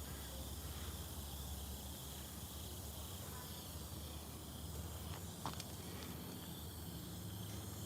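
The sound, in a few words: crickets chirping at night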